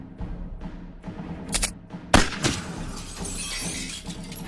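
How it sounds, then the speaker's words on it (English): A rifle bullet shatters a window in a radio drama sound effect: a sudden sharp crash of breaking glass, then tinkling shards and a second smaller burst, preceded by a few soft thuds. "Someone pegged a shot at us, Doc."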